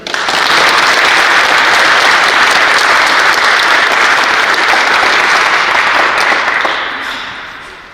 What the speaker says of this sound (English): give the official members of the 2025 Stella Mars chapter of the National Honor Society a round of applause